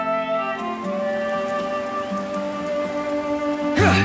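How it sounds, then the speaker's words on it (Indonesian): Steady rain falls and patters in the video game Tower of Fantasy, a constant wash of drops with a faint tone running underneath and a brief louder burst at the end. "Hujan, Jo."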